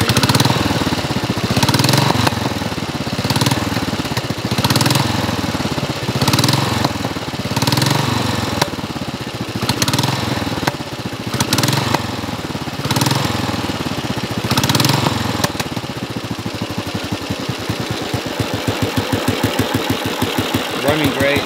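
A Royal Enfield Bullet motorcycle, restored after sitting five years, runs loud with a steady thumping single-cylinder beat close by, then settles into a slower, lopsided idle near the end.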